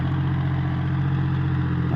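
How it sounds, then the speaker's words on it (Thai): A tractor engine idles steadily on a cassava farm, a continuous low rumble with a regular throbbing pulse, close and fairly loud throughout with no talk. "ยกมันขึ้นรถ นะครับใช้รถไถสองคัน"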